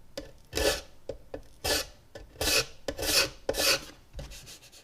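Scraper rasping old glue off a violin fingerboard down to raw wood, six rhythmic back-and-forth strokes, close and fairly loud with brief pauses between.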